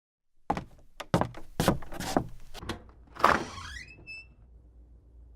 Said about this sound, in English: Why don't we open the door and find out?